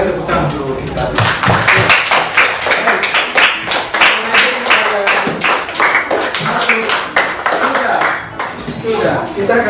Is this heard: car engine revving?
no